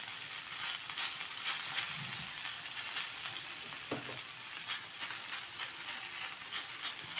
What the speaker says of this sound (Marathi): फक्त इथं मी 2 टिक्की टाकून मस्त भाजून घेणार आहे.